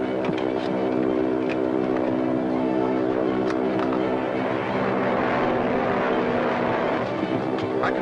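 A steady, droning airplane engine, a sound effect in an old radio drama serial, runs loud and unbroken throughout, with a dense, even hum and a few faint clicks scattered over it.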